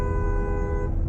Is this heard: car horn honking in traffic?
yes